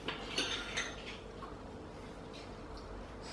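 A spoon scrapes and taps against a container of firm, still-hard low-calorie protein ice cream, giving a couple of brief close clinks and scrapes over a quiet background.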